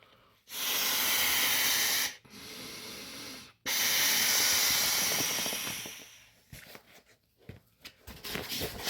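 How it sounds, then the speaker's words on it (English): Long forceful breaths blown into the air intake valve of an inflatable sleeping pad make loud rushing hisses in successive blows separated by short gaps, then trail off into softer rustling and puffs. "it really only takes 2 breaths to get this thing completely pumped"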